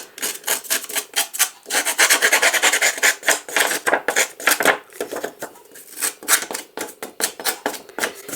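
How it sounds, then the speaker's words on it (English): A Prima distressing tool rasps and scrapes along the edges of card for a Christmas card, in quick repeated strokes that are close and fairly loud, with nothing else heard. "I'm also going to distress the edges and ink around the edges using my Prima distressing tool."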